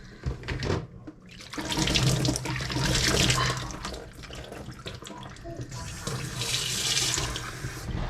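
Tap water splashing loudly and steadily as hands scoop it over a face at a sink, a dense continuous rush with brief pauses, close to the listener.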